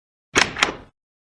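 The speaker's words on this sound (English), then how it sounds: "I'll get the door." A front door opens with two quick close clunks of the latch and handle, a short burst over near silence.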